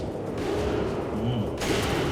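Gunfire and an explosion burst from Resident Evil 5 co-op play, a dense rattle of shots with a louder blast near the end, while players talk excitedly over the action.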